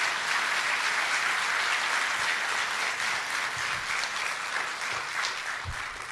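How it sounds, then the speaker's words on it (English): Steady, full applause from an audience at a synagogue sanctuary dedication ceremony, a dense wash of many hands clapping continuously at a moderate distance, with no talk over it. "big round of applause"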